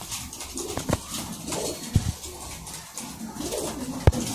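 High flyer pigeons cooing nearby in soft, low repeated coos with occasional sharper knocks and rustles, fairly close and steady.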